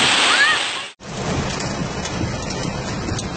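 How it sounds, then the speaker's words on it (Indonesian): Hailstorm with strong wind in Magelang, a dense roar of pelting ice and rain across the whole clip, briefly cut off near the start, then continuing loud and steady. "Hujan es, hujan es, hujan es, armada hujan es,"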